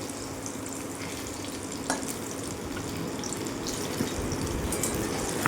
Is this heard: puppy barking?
no